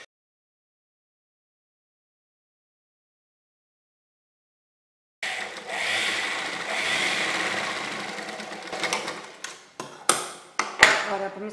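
After about five seconds of silence, a sewing machine starts stitching a kurti, whirring steadily up close, then breaking into shorter bursts and clicks toward the end.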